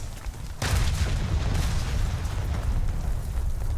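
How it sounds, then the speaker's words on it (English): Bombs dropped from a Zeppelin in a World War I era combat video game, detonating as a sudden deep blast that rolls into sustained, rumbling explosions and debris noise, fairly muffled and distant. "I believe I have, yep, I have bombs falling on me."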